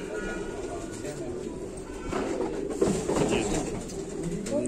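Pigeons coo softly in the background, a low bubbling murmur heard under people talking close by.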